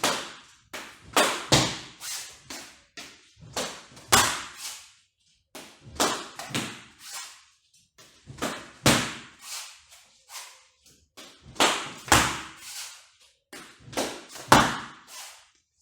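Nunchaku blows land on a Bob training dummy in sparring practice, giving a steady run of sharp slapping thuds in quick pairs and bursts across the clip, close and fairly loud with short pauses between groups.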